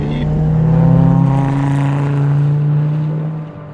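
A 520 whp Subaru BRZ hillclimb car screams at speed around a racetrack, its loud, sustained engine note holding steady then dropping slightly near the end.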